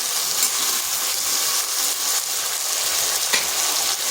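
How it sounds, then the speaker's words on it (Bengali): Taro (gathi kochu) pieces fry in hot oil in a pan, a steady loud sizzle with crackles and occasional stirring scrapes, no voices. "এইভাবে প্রথমে গাঁঠি কচুগুলো যদি ভেজে নেওয়া হয়"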